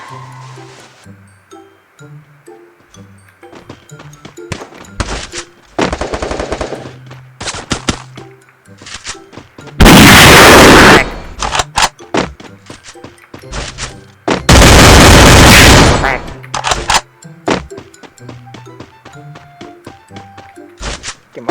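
Gunfire in the mobile shooter Free Fire: sharp single shots and short bursts, punctuated by two long, loud sustained volleys of automatic fire, with game clicks and thuds between them.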